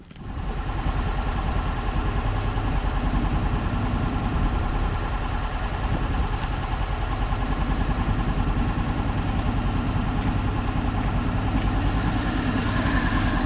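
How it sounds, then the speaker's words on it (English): A motorcycle engine runs at a steady idle throughout, a loud, close, continuous low rumble with an even putter and no speech over it. "go start up the bike, and"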